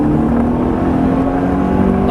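Car accelerating hard at full power on the Silverstone circuit, a steady loud engine drone with rising tones that stays close and continuous throughout.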